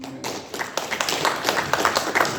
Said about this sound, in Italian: quindi accogliamo Renato con un applauso